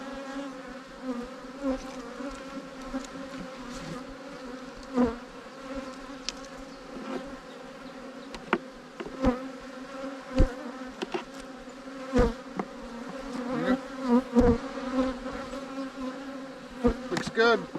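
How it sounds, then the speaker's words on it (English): Dense, steady drone of many honey bees swarming around an open hive box in a bee yard, a continuous close buzz with individual bees zipping past the microphone, no talking. "Oh, it's a ton of bees."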